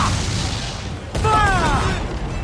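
A sailing ship's cannon booms in a naval battle in Assassin's Creed Black Flag, one heavy blast rolling out loud under shouting crew voices.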